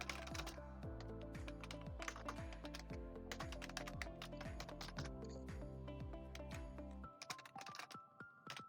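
Rapid keystrokes on a computer keyboard typing a terminal command, a steady close clatter over a low musical background that drops away near the end.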